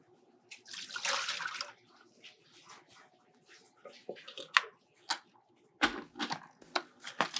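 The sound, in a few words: dirty lettuce-soaking water being dumped from a bowl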